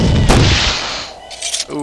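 A weak fireball spell cast in the fantasy role-playing game Geneforge 4 goes off as a loud, close, booming blast that fades away, followed by a smaller second burst.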